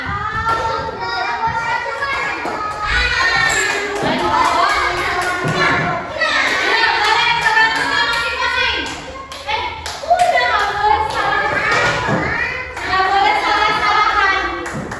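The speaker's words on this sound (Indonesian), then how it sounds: "Tepuk tangan dulu buat semuanya." A classroom of children claps in scattered bursts mixed with excited chatter, shouts and thumps, close and lively throughout.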